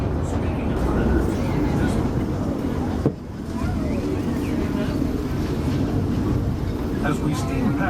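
A Disneyland Railroad steam train runs along its track with a steady low rumble, washed over by wind noise, with a voice faintly audible underneath.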